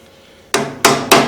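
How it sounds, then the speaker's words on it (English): A hammer strikes a boat trailer wheel hub three times, sharp, loud metallic taps spaced roughly a third of a second apart, close up with no talking. "tap on it with a hammer"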